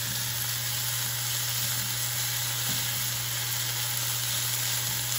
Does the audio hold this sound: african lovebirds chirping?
no